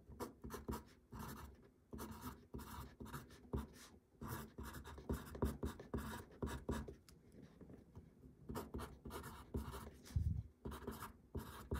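A Faber-Castell Perfect Pencil writing on paper, giving close, dry scratchy graphite strokes in quick irregular bursts with short pauses, steady throughout and without voices.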